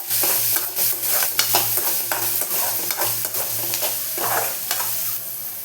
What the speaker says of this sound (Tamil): பாருங்கள், வெங்காயம் நல்லா வதங்கிடுச்சு.